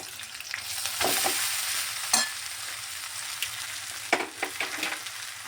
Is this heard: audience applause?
no